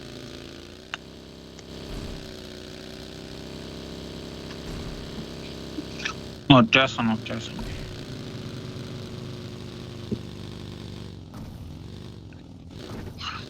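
An in-game motorcycle engine idles on the Erangle map in PUBG, a steady droning hum running throughout while a player talks over it, with a few sharp clatters midway.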